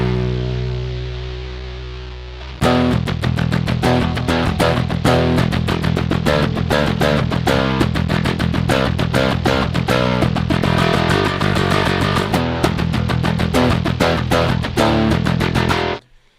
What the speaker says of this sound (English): So this one has like a ton of clean signal, and the fuzz is kind of bubbling underneath, and it's a very nasty kind of sounding fuzz